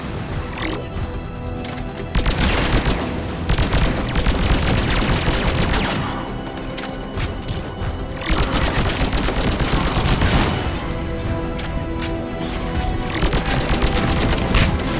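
Sustained automatic gunfire fills a Mass Effect 3 firefight against turrets, dense rattling bursts running nearly continuously with brief lulls and heavy booms, loud and close throughout.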